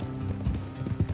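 Horses' hooves clop on a road in Red Dead Redemption 2, a short burst of close, thudding steps in uneven rhythm.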